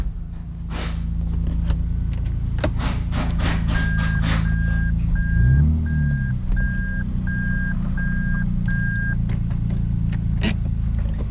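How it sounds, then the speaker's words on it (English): A Lexus IS200 car backs slowly off ramps, its engine idling in a steady close rumble while a regular reversing beep repeats through the middle and a brief low swell rises partway. "Reverse the car a little bit to get off the ramps."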